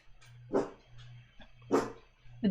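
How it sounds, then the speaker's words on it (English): A dog barking in three loud, separate barks spaced about a second apart, close by, with a low steady hum in the background between them. "the dog agrees"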